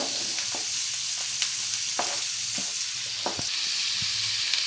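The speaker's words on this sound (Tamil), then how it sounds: "கடாயில் போட்டு எண்ணெய் சூடானதும் வெஜிடபிள் எல்லாம் போட்டேன்" Vegetables sautéing in hot oil in a kadai, a loud close sizzle broken by several sharp clicks and scrapes of a stirring spoon against the pan, with no voices.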